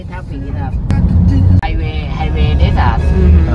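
Steady road traffic on a busy Bangkok street, a continuous low rumble of car engines with passing vehicles, heard from close by under ongoing conversation.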